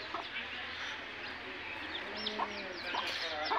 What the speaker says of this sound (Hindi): मुर्गी का बच्चा दिखाने जाते हैं जो कि बहुत छोटा छोटा सा है।